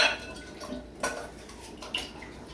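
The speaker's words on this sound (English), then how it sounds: "Mix it very, very well." Evaporated and sweetened condensed milk being stirred together in a bowl for tres leches, with a few soft clinks of a utensil against the bowl over a quiet background.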